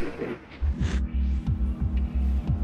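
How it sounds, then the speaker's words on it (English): Deep, slow, throbbing tones from long-abandoned old trains in the game OffPeak hum low and steady, with soft pulsing swells repeating about every half second, and a brief brighter whoosh near the start. "you can hear the sighs of old trains long abandoned. They make these long, slow, deep tones all day."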